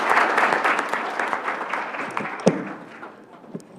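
Applause from the audience at a Rochester Board of Education business meeting starts full and thins out, tapering to a few scattered late claps near the end.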